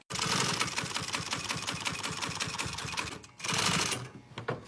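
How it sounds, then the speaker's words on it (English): Sewing machine stitching vinyl upholstery on a pontoon boat seat, a fast steady mechanical clatter of needle strokes in two bursts with a short pause between, close and moderately loud, no speech. "We can finish it off by sewing this piece back all the way around."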